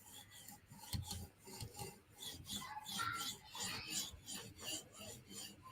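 A knife edge strokes back and forth across a 5000 grit whetstone, a soft close rasping scrape repeating in a quick, even rhythm of about two passes per second, fairly quiet and with no talking.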